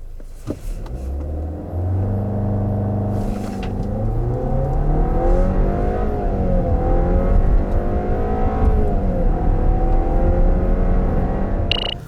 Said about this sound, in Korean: 여기서 잠시 가속 성능부터 한번 확인해 보겠습니다